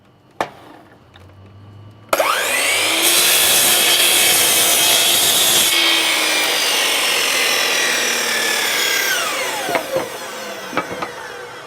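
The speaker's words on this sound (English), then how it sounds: "bring the blade out to the outside edge of the timber before you start the saw, and then start your cut from there" A slide compound saw cuts through timber. After a thump, the motor spins up with a loud whine that holds through roughly eight seconds of cutting, then winds down into a few light knocks and clicks.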